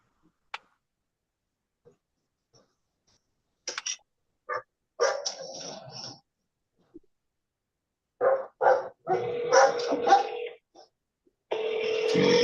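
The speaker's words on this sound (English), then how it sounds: "Dogs." Dogs bark in short sharp bursts, scattered at first and then clustering into repeated barks toward the end, fairly close and loud, with a person shouting nearby.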